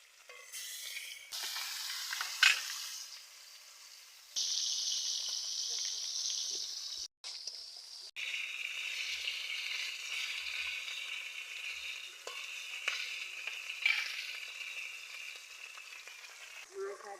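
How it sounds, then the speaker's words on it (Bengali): Fish pieces rubbed with salt and turmeric drop into hot oil for a village-style Bengali fish curry with drumsticks, a quiet start followed by a loud steady sizzle and crackle, a short gap, then continued frying with stirring, no voices. "লবণ হলুদ মাখিয়ে রাখা মাছগুলো আমি দিয়ে দিচ্ছি তেলের মধ্যে"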